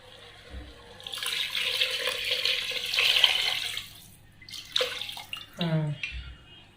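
Water pours steadily into a cooking pot for a batch of food, a close splashing stream for about three seconds, then a few shorter pours and clinks, with a voice briefly audible.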